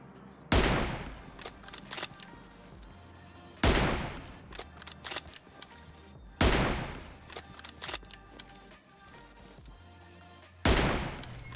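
M24 sniper rifle shots in PUBG Mobile ring out four times at regular intervals, each a loud sharp crack with a long decaying tail, with fainter game sounds and clicks between.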